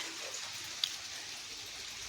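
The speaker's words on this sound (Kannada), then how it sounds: "ಇದು ಮಳೆ ಅಂದರೆ ಹೇಳೋಕ್ಕಾಯ್ತಾ ಇಲ್ಲ ಅಷ್ಟು ಮಳೆ ಬೀತಾಯ್ತೆ" Steady, dense rain hiss with no pauses, an even wash of falling water and one brief tap partway through; nobody speaks.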